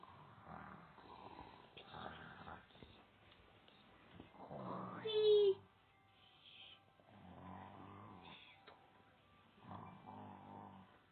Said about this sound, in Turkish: Babam babam horluyor uyuyor.